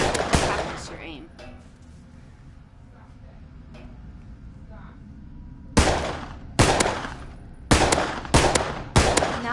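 Pistol shots in a video game firearm tutorial: a loud crack at the start, a quiet stretch, then five more sharp single shots spaced about a second apart, close and alone.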